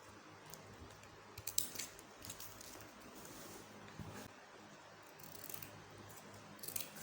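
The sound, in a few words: scissors cutting sinamay fabric strip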